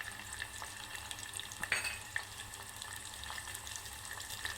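Cumin seeds sizzle in hot oil with garlic and curry leaves for a dal tadka tempering, a soft steady crackle with a few sharper pops near the middle, quiet and close with no talking.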